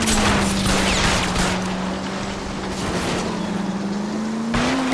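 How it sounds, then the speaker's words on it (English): Gunfire in the L.A. Noire video game crackles through a car chase, sharp bursts over a steady engine drone and tire noise, loud throughout. "she's shooting back?"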